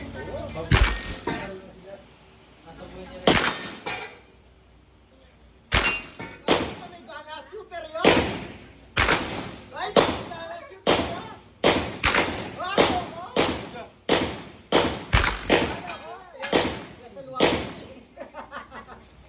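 Sharp gunshots crack out one after another at a firing range, loud and close, coming in an irregular burst of repeated blasts with a brief lull early on, while people talk between the shots.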